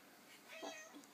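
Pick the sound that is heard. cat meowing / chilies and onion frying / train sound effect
cat meowing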